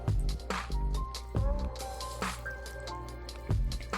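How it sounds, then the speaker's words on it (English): Bare hands work thinly sliced meat through a bulgogi marinade, making close, wet squishing and dripping sounds in irregular bursts, quiet and alone. "Go ahead and really get in there and make sure every single slice of meat is covered in the marinade."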